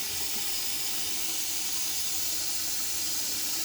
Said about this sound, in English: I'm going to fill my little lather bowl here with water.